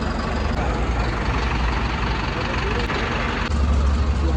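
A sleeper bus on a journey from Hyderabad to Goa sits with its engine idling, a steady low rumble that runs throughout and swells slightly near the end, with people talking nearby.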